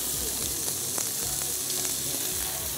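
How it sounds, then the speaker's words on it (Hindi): Lightly boiled potato wedges deep frying in hot oil, giving a steady dense sizzle with small crackles and pops, close and continuous without talk. "आलू को थोड़ा हल्का सा बॉईल किया और डीप फ्राई कर रहे हैं वेजेस को"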